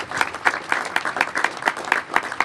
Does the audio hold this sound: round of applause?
yes